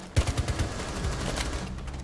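Gunfire in a ranked match of a shooter video game: a quick volley of loud close shots at the start, followed by scattered rattling fire and game noise, with no talking.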